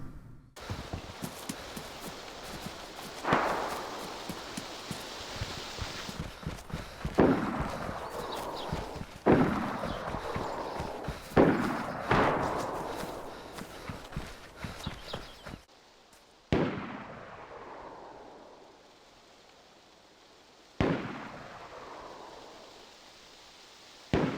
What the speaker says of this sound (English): I'm now gonna let you listen to a few shots going off in the distance.